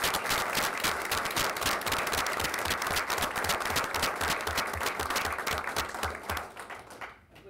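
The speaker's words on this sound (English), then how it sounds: "Give them a round of applause." Room applause at a Gardner city council meeting congratulating honorees, loud sustained clapping from many hands that fades out near the end.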